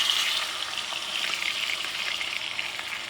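Scallops frying in a hot pan give a steady, close, loud sizzle with a bright hiss that stays even from start to finish, with no voices over it.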